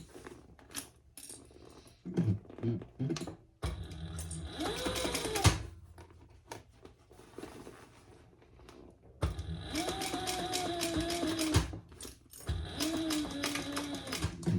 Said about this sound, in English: Right now, I am just basting that part of my strap adjuster, strap connector, whatever you want to call it, strap connector on.